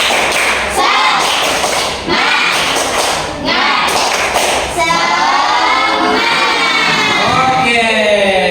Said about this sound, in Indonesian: Sekarang biar semangat presentasinya, kita tepuk semangat dulu.